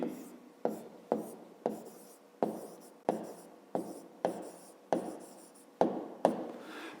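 Pen or pencil writing down answers for a fifth-grade math exercise, heard as about a dozen sharp regular strokes on paper, each fading quickly, close up with no talking.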